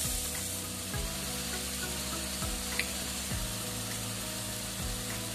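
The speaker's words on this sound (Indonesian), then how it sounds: "Kita tumis hingga bumbunya tanak." Spice paste sizzles and fries steadily in a pan for a large batch of seblak mie goreng, with occasional scrapes and stirring clatter over a continuous close crackle.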